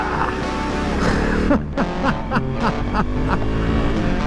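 Engine of a Honda CRF300L Rally motorcycle on a winter's day ride, steady close drone that revs up and down in several short pulses, with wind rush throughout.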